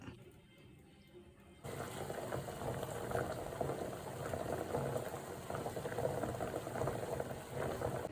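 Quail eggs boil in a pot of water, a steady, dense bubbling and rolling that starts abruptly after a quiet second and continues loud and close without talk.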